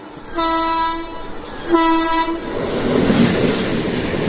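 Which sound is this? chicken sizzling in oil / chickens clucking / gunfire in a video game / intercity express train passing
intercity express train passing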